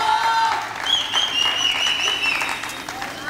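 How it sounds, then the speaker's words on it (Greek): Studio audience applauding a contestant named Panagiotis on a Greek cooking show, steady clapping sustained for a few seconds with a bright tone sweeping through it. "Πάμε να χειροκροτήσουμε τον Παναγιώτη."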